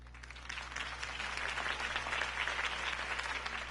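Applause from a crowd at Harvey Dent's campaign speech in the Batman Telltale video game, a steady wash of clapping that builds in the first half second and holds over a low electrical hum.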